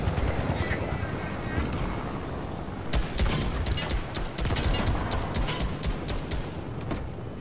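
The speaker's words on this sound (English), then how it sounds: "Another helicopter?" A Fortnite helicopter's whir fills the background, then rapid bursts of gunfire crackle over it from mid-clip onward, game combat audio with no clear speech.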